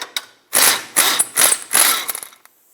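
A wrench and socket turning a strut bolt on a 2007-2010 Chrysler Sebring rear strut assembly, four quick ratcheting bursts in a row, loud and close, with a faint click before them.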